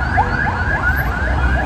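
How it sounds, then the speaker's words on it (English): An ambulance siren wails in rapid rising sweeps as it passes on a city street, loud and continuous over steady traffic noise. "There's an ambulance passing"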